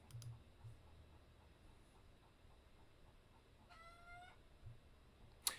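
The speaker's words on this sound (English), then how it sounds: "If you hear chickens in the background" Faint, sparse clucks from chickens at a distance, with one short harmonic squawk partway through and a sharp click at the end, otherwise quiet.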